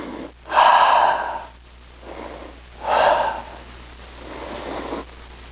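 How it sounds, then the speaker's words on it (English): Deep breathing during a karate exercise: two strong inhalation-exhalation cycles with softer breaths between, close and clear, no talk. "Breathe in, breathe out."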